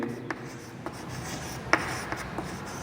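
Marker or chalk strokes on a board during a maths lesson, a few short scratchy taps and rubs spaced irregularly, fairly faint and close, with no talking.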